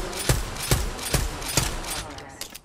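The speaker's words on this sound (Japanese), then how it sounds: "なんかラバシティ銃声なってない？" Distant gunfire in the Apex Legends video game near Lava City: single shots spaced about half a second apart, moderately loud over low background noise.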